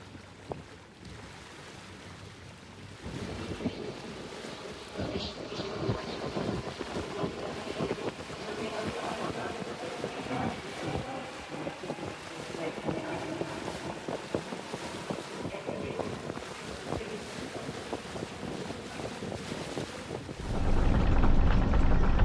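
A sailboat under sail with its engines shut off, heading in to anchor: steady wind rush and water noise on the microphone, continuous and fairly loud, rising further in the last seconds, with no voices.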